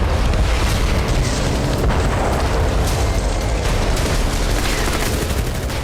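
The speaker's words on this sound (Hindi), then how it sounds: "आसमान से मिसाइल गिरी, जोरदार धमाका हुआ" Missile strike blast at the Russian navy headquarters in Sevastopol, Crimea: a dense, sustained roar of explosion and crackling bursts fills the whole stretch at high level, with no clear gaps or voices.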